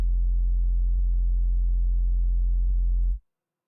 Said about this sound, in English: a sine wave isn't the only way to make a sub bass